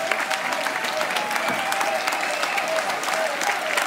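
Audience applause for the Zillertaler Haderlumpen at their farewell on the Immer Wieder Sonntags 2022 show: dense, sustained clapping from a large crowd, loud and even throughout.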